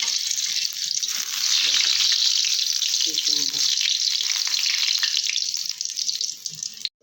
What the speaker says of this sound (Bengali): এইভাবে সব কটা বড়া ভেজে নিয়েছি